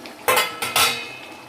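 A metal lid clanks down onto a pot of simmering egg curry, two quick close metallic knocks with a brief ringing rattle, no voices.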